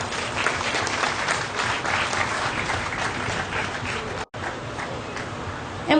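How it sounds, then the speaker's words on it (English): Broad, dense applause from a crowd at a young cow show, honoring the exhibitors, steady for about four seconds, then a brief break and more clapping that carries on to the end. "I think all these exhibitors deserve a big round of applause."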